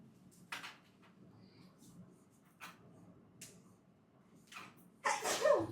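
A single sneeze in a classroom during a math lesson, a sharp burst near the end that follows a few softer rustles and quiet murmurs, heard close.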